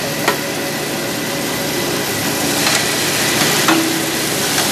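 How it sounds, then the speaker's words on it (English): Seasoned snow goose breast searing in a hot skillet, a dense continuous sizzle with a few sharp spatters and faint clicks, close and fairly loud, no voices. "Turn it in a hot skillet."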